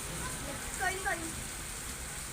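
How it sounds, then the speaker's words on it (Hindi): Rain falls steadily as a soft, even hiss on a rainy day, faint in the background, with a brief murmur of voices partway through. "आज सुबह से बारिश हो रही है, बहुत ही अच्छा मौसम है आज।"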